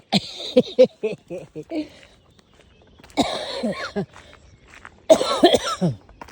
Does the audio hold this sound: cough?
yes